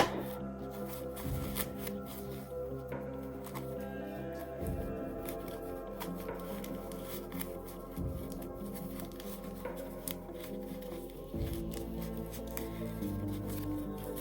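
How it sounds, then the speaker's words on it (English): Soft fabric rustles and scrapes continuously as sewn teddy bear legs are pushed right side out, close and quiet, with small shuffling bursts. "So I'm going to turn the legs through now"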